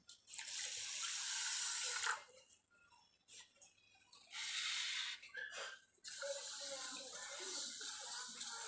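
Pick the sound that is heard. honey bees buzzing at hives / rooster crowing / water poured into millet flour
water poured into millet flour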